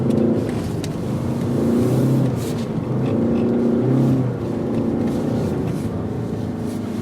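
A Skoda Kodiaq 4x4 drifts on a narrow track in Finland, its engine droning loudly and steadily with pitch swelling and falling as the throttle is worked. It is heard close from inside, with no talking.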